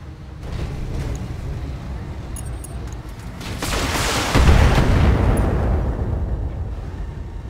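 Mech weapons fire in the BattleTech video game: heavy booming blasts and rumbling explosions build in a sustained, loud barrage that swells midway and trails off, with no talk over it.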